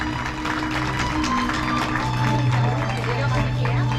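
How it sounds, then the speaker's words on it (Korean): Wedding guests at an outdoor ceremony applaud steadily in a dense, sustained wash of clapping, with a background hum and an announcer's voice under it. "축하의 박수 부탁드리겠습니다"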